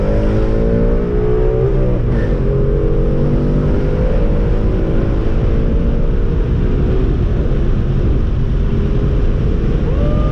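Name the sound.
tuned car accelerating hard in second gear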